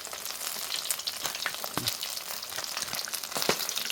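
Food fries in hot oil with a dense, steady crackle and sizzle that stays close and continuous from start to finish, with no voices.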